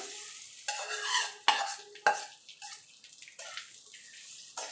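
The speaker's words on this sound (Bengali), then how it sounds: "চালটা দিয়ে মিনিট খানিক একটু তেলের সঙ্গে ঘিয়ের সঙ্গে ভেজে নেব" Rice is stirred and fried in oil and ghee in a pan for festive pulao, a scraping stir with two sharp clanks and a soft sizzle beneath, no voices.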